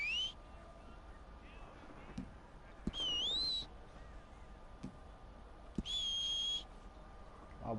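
Whistling in the Western video game Red Dead Redemption 2: two clear, rising melodic whistles, each lasting under a second, stand out over a steady low ambient bed with faint scattered background sounds.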